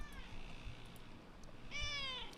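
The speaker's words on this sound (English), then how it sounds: "Here comes my cat" A house cat meows softly indoors, a couple of faint, drawn-out meows with the clearest one near the end.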